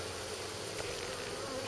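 Bees buzz in a steady, dense hum, a close swarm drone with no voices.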